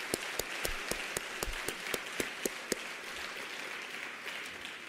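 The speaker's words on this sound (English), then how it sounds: "Let's give another round of applause to the President." Audience applause for President Thabo Mbeki at a university conversation event, a steady moderately loud wash of clapping with a few sharper individual claps standing out in the first few seconds before it settles into an even patter.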